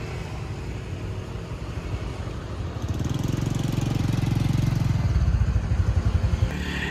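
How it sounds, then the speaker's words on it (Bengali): Semi-automatic or manual scooters pass along a road on the Son Tra Peninsula in Da Nang, Vietnam, their loud, buzzing engine drone swelling and holding close by before easing off slightly. "এগুলো হচ্ছে সেমি অটোমেটিক বা ম্যানুয়াল আর কি, স্কুটার নিয়ে যাচ্ছে, কি আওয়াজ"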